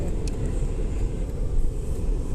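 A car drives along with a steady low engine rumble and road noise inside the cabin, continuous and fairly loud, with no voices.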